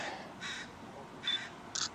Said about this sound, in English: Geese and crows.